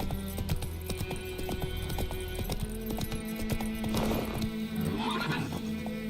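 A horse in The Witcher 3 video game gallops with rapid, rhythmic hoof clip-clops and whinnies, loud and close throughout, with game sounds layered over it.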